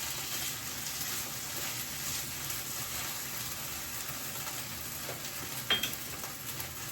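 Leftover grits frying in oil in a pan give a steady, close sizzle and crackle throughout, with one brief sharper spit near the end and no talking.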